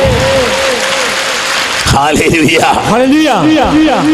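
Applause fills a church, a steady wash of clapping that runs unbroken the whole time while a voice sings or speaks loudly above it.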